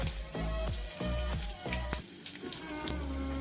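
Cumin seeds sizzle in hot oil for a sambar tempering, a close, steady crackle punctuated by repeated pops and brief stirring scrapes, with no one speaking.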